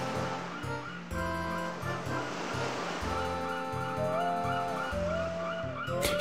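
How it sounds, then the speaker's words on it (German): Water splashing and lapping waves on an island shore in the Paper Mario video game, a steady wash of surf sitting under tonal game tones and chirps throughout. "Ich höre hier nur so ein Wassergeplätscher."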